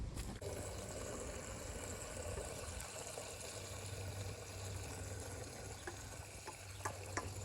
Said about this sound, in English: I'll turn on the water though.